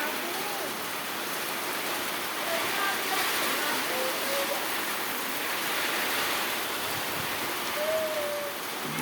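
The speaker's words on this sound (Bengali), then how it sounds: "বিশাল পরিমাণে বৃষ্টি।" Heavy rain falling at night, a steady broad hiss of downpour filling the whole stretch, constant and enveloping, with faint voices underneath.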